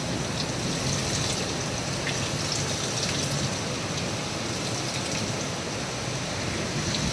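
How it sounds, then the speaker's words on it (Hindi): Heavy, steady rain pours down during a storm in a constant dense hiss, with no voices. "बहुत तेज़ बारिश और तूफान था।"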